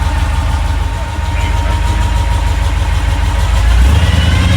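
A 1940 Ford COE custom rollback truck engine, suffering poor coolant flow, runs loud and close with a steady low rumble that swells slightly as the revs rise near the end.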